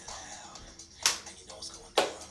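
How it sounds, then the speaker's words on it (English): Two sharp hand claps in a dance exercise class, spaced about a second apart, with quiet background in between. "Step clap."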